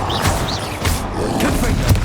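A fire spell, Incendio, is cast in the Hogwarts Legacy game, producing a few loud, whooshing bursts of flame over a steady rumble of combat effects.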